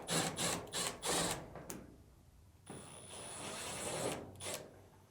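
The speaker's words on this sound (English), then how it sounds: "First, we need to get access to the back of the dryer to remove the two screws holding on the top cover." Screws are backed out of the top cover at the rear of a Samsung clothes dryer, bursts of a power screwdriver whirring near the mic, separated by short pauses and a longer high-pitched spin.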